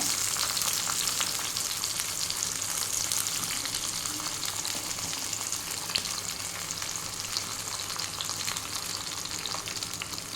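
Tomatoes fry in oil for a tomato and raw mango chutney, giving a continuous, even, moderately quiet sizzling hiss with a low steady hum underneath.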